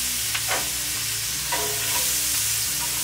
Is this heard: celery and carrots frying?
yes